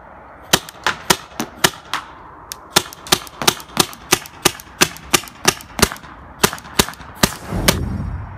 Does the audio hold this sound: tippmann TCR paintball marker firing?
yes